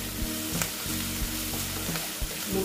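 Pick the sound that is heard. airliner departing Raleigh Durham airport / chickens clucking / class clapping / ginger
ginger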